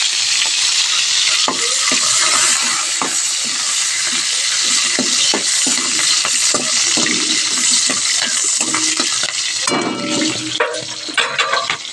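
Green chilies fry for sabudana in hot oil, a loud, continuous sizzle with crackling bursts, broken by scraping stirs and clinks of the spatula against the pan, and a louder burst of sizzling near the end.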